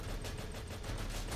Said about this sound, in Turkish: bu silah sesi kesin duyan olmuştur